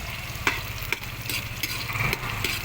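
Onion and garlic sauté in a pan, a steady close sizzle broken by a few quick scrapes of a stirring utensil, with no voices.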